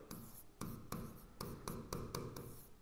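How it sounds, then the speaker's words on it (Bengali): A pen or marker writing out a math solution in a series of short bursts of scratchy strokes with brief pauses between them, close and fairly quiet, with no talking. "তো সলিউশন লিখছি এর।"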